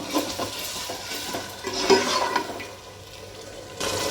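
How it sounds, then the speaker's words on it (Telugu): Masala for potato pulao sizzles and bubbles in a pan with a steady wet frying hiss, a few stirring scrapes rising in the middle and at the end, close and fairly loud with no talk. "సో ఇప్పుడైతే మనం మసాలా మంచిగా కుక్ చేసుకుందాం"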